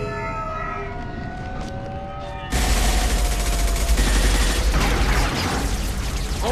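Mass Effect 2 combat: a sudden wall of dense, sustained gunfire and explosive noise erupts partway through, loud and continuous after a quieter stretch with a siren-like tone.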